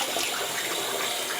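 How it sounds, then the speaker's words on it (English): Tap water runs in a steady, close broadband rush while a freshly shaved face is rinsed during a barbershop shave, with no one talking over it. "Rinse off real quick there."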